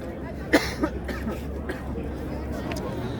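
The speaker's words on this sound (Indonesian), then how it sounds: "maaf ya agak batuk." A single sharp cough stands out, followed by a smaller second cough, over a faint background murmur of voices in a roomy space at Jabal Rahmah.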